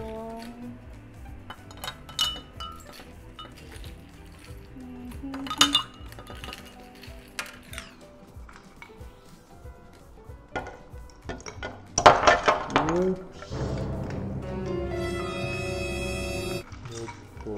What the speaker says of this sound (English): ilagay yung ice dito sa milk